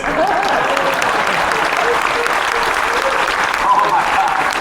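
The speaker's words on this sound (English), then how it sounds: "I can do this till everybody claps." Applause from a theater audience during a cruise ship show aboard Royal Caribbean's Jewel of the Seas, a full, even wave of clapping that carries steadily for several seconds, with a few scattered voices in the crowd.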